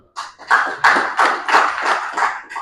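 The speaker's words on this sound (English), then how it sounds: "Once again, clap yourself." A small group clapping at a university student week event, short bursts of hand claps in an uneven, loosely synchronized rhythm that start after a brief pause and stay close and moderately loud.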